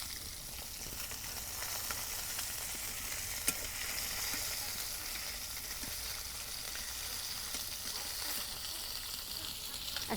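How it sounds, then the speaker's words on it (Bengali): Large fish frying in oil in a pan during village cooking, an even, close, continuous sizzle with faint crackles throughout. "এক খোলা মাছ ভাজা হচ্ছে"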